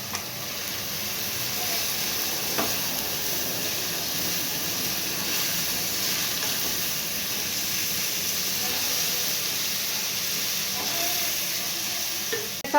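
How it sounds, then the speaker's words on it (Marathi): Chopped capsicum stir-fries in a hot pan for Schezwan noodles, a soft steady sizzle and hiss with occasional light stirring scrapes, fairly quiet and continuous throughout. "आता आपण हे कट केलेली शिमला मिरची ह्याच्यात टाकून द्यायची।"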